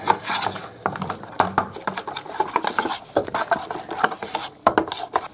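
Metal spoon scraping and clinking against a bowl while fish masala with turmeric and water is stirred and mixed for a katla fish vapa, a busy, close run of irregular scrapes and taps with no talk.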